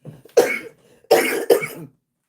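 Three harsh coughs close up: one single cough, a short pause, then two quick coughs in a row, with silence between.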